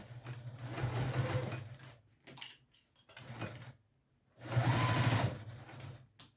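A sewing machine running a longer stitch length whirs in two fast, steady bursts, close and clear, separated by brief handling clicks and pauses.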